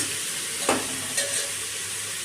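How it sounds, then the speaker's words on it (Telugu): Vegetables for veg biryani fry in a pan with a loud, continuous sizzle, broken by a couple of quick stirring scrapes, with no talking. "ఇంకా పచ్చివాసన పోయేదాకా బాగా వేయించుకుంటాం."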